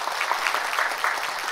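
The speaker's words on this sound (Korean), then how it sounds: "박수로 격려해 주시면 감사하겠습니다" Congregational applause during a Korean church worship service for the women's group officers, a steady dense patter of many hands held at an even level throughout, with no talk over it.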